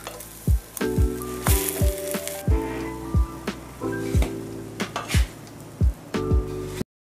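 Egg-soaked bread for French toast laid into a hot pan, giving a steady crackling sizzle broken by sharp clinks and taps of a utensil against the pan.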